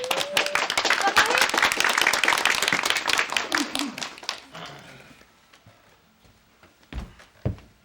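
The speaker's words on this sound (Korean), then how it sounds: "박수로 환영해 주세요" Audience applause welcoming a physical therapist from an orthopedic clinic to read a celebratory poem at a 56th birthday party: dense clapping for about four seconds that thins out, with a few scattered claps afterward.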